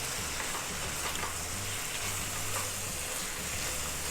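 Chicken for tacos sizzles steadily in a pan, a continuous close hiss of frying with faint low hum underneath and no voices.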